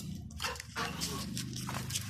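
A dog yelps and barks in a few short bursts over a low background rumble, close by and fairly quiet, with no talking.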